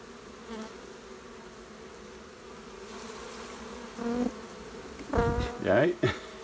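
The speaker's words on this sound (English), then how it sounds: "Now is that me or is that, yeah, that's bee. That's all drones." Honeybee drones in an opened hive full of drone larvae give off a continuous close buzzing hum that holds steady throughout, with a few brief human voices breaking in near the end.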